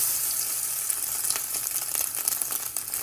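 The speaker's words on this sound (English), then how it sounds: "We're just going to get our pan really hot so we can get a nice crust on these sardine cakes." Sardine cakes fry in a really hot pan, giving a steady, fairly close hiss of sizzling oil with faint crackles, alone and without talk.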